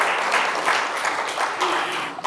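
A church congregation applauds during an annual meeting in the sanctuary, a dense, even wash of many hands clapping at a moderate distance, sustained for a couple of seconds with no talk over it.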